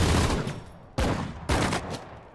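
Bursts of machine gun fire from a World War II battle in the Sudden Strike 4 strategy game, set in the Battle of the Bulge: a sustained loud volley, then two sharp new bursts about half a second apart, with no talking.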